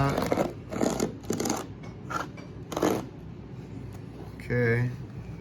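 Several sharp cutting bursts as covering material for a dome is trimmed along a straight edge, close and distinct, followed by a brief tonal squeak.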